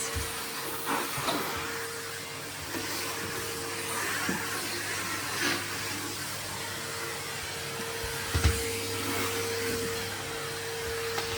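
Vacuum cleaner fitted with a dusting brush attachment, run along a small window ledge indoors; a steady, moderately loud motor hum with a faint whine, brief knocks and scrapes as the brush meets the surface, no voices.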